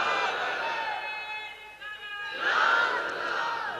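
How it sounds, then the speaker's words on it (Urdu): Crowd at an Eid Milad-un-Nabi jalsa in Rasulpur Mohamdabad chanting religious slogans, many voices calling out together in a short, swelling burst that peaks midway. "غضب کے نعرے ہیں بھائی"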